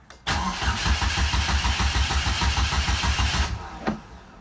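A Mazda Miata with an Ecotec engine cranks steadily with a rhythmic chugging for about three seconds, then stops without catching because no fuel reaches it, followed by a faint click.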